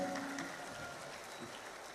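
Faint, steady clapping from an audience of orphaned children at a prayer gathering for Palestine, a soft diffuse patter that holds at low level for the whole moment without a voice over it.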